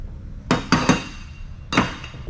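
Pieces of aluminum scrap from a motorcycle repair shop clank and clatter as they are tossed, giving four sharp metallic hits in quick succession, close and loud.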